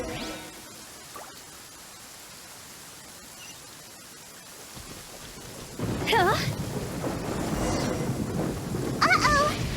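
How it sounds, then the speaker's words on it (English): A video game thunderstorm starts with a quiet, steady hiss of rain, then swells into louder rain and rumbling thunder in the second half, while a voice speaks briefly over it. "Uh-oh! Lightning storm!"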